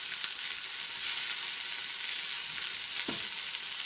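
Steady hissing sizzle of meat frying in a pan, with a soft scrape of the pan near the end; close and moderately quiet.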